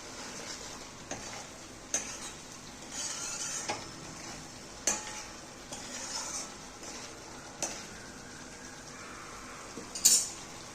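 Salt being stirred into dum aloo gravy in a pan: soft repeated scraping strokes over a faint sizzle, with occasional spoon taps and a sharper clink near the end.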